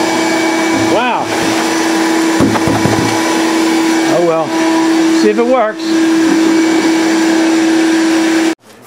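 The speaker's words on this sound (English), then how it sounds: "That's a pretty powerful vacuum there" Powerful vacuum suction running steadily in a homemade four-cylinder Briggs engine project, a loud constant drone with a sustained tone throughout, while someone talks briefly over it before it cuts off at the end.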